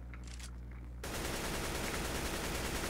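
AK-47 gunfire in CS:GO, a quiet moment that breaks into a loud, dense, continuous automatic burst lasting about two seconds, close and dominant.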